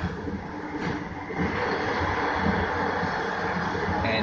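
A SkyTrain car on the Evergreen Line rolls toward a station, heard from inside as a steady loud rumble and whoosh of wheels and motors that builds slightly.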